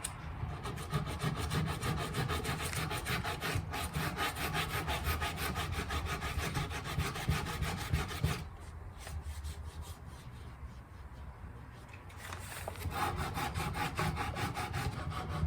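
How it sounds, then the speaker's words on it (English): Coarse 80-grit sandpaper rubbing steadily back and forth over a Ford F100/F250 steering wheel during repair, a loud continuous scratchy rasp that eases off briefly near the end before resuming. "this is 80 grit sandpaper, so it's pretty aggressive, so it gets through this pretty quickly"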